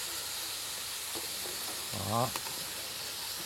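Meat frying in a pan gives a steady close sizzle and hiss, with a short burst of spattering near the middle and a brief spoken word over it.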